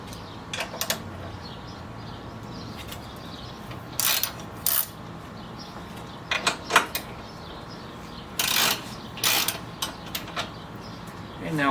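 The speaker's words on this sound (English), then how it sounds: "Now for the 4 bolts, starting off with the 12 millimeter." Ratchet clicking in short bursts while loosening 12 mm bolts on a 10th-generation Honda Civic during A/C condenser replacement, several separate spells of rapid ratcheting over a steady low background hum, fairly close.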